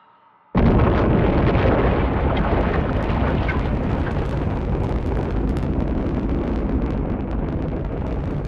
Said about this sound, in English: to watch the rocket lift off